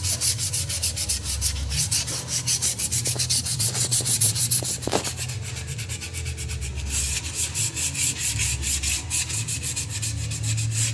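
Rhythmic back-and-forth scraping of sandpaper against wood, steady and close, with a few faint knocks partway through.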